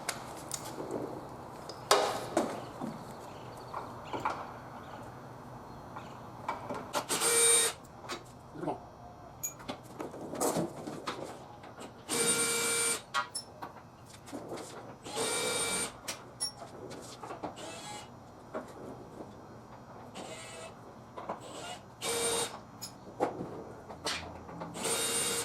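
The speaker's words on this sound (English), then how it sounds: "But I'm just going to finish them off with a drill." A power drill spins off already loosened body bolts on a Ford F250 with the 6.4L engine during a partial body lift, in a series of short, loud bursts separated by pauses over a quiet workshop background.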